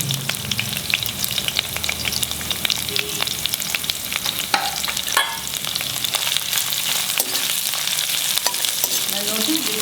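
Sliced ginger and chopped garlic fry in oil over a high flame, a loud, steady, crackling sizzle with constant spitting pops and a few scraping stirs midway, with no speech.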